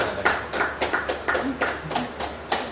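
Rhythmic clapping from a small audience at a motivational song session, about eight evenly spaced claps in a steady beat, moderately close with no talk over them.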